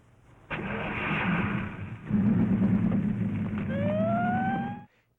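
A car engine turns over and runs, then a siren starts up, its wail rising in pitch before cutting off abruptly.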